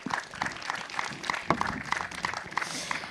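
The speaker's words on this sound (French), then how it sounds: "Vous pouvez l'applaudir." Conference audience applauding, a dense sustained patter of many hands clapping in a hall, steady throughout the clip.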